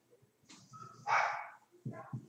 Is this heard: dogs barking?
yes